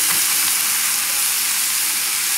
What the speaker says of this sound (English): Able to saute the onions